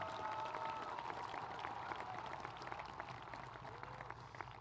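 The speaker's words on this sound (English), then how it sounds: "give them an applause" Graduation ceremony audience clapping for a robotics team, a faint, distant, steady patter of many hands filling a large hall, with a few brief voices blending into the applause.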